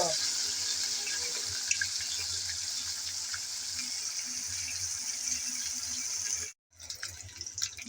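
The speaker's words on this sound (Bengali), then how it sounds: "গরম তেলে পরপর সবগুলো মাছ আমি দিয়ে দিচ্ছি উল্টিয়ে পাল্টিয়ে দুটা সাইড আমি ভালো করে বেজে নেব" Rohu fish pieces fry in hot oil, a loud, steady hissing sizzle heard close that cuts out briefly near the end and then picks up again.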